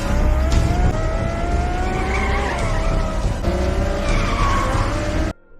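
A car accelerates hard while being chased, its engine roaring loudly with tires skidding and squealing throughout, the whole run continuous and close before cutting off abruptly near the end.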